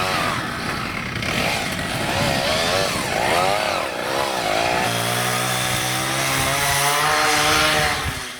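An old chainsaw engine runs loudly and close, its pitch rising and falling as it revs, then settling into a steady idle drone.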